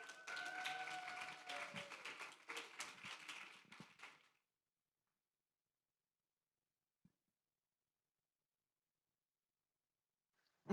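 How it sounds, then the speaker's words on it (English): A management team receives applause at a retail company's business plan kick-off: roughly four seconds of fairly quiet clapping mixed with voices, then it cuts to near silence with one faint tap. "Let's give them a round of applause,"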